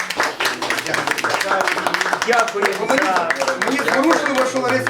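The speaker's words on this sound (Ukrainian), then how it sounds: "а ми аплодуємо Павлюкові" An audience claps for the Ukrainian poet Ihor Pavliuk at a literary evening, a continuous patter of applause running under a close voice that talks throughout.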